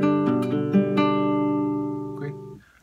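Charango and guitar play a string-by-string picking pattern for a folk tune, a quick run of plucked notes over a ringing bass that then sustains and fades out, close and alone.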